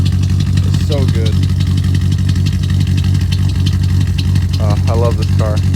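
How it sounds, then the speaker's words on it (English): A BMW with a 540 engine swap idles with a steady, loud exhaust drone throughout, and brief voice-like tones rise over it near the start and the end. "Doesn't sound very good, but this thing's just idle exhaust notice."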